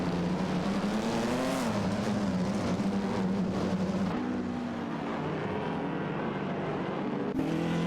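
Simulated race cars in a video game, a Maserati 250F 3.5-litre among them, hold a steady droning engine note that shifts pitch slightly as they run, continuous and fairly close without any talk.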